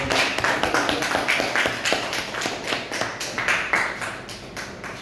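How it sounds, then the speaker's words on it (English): Thunderous round of applause from an audience at a Toastmasters club speech session, a steady wash of many hands clapping that sustains throughout at moderate loudness with no talking over it. "With a thunderous round of applause,"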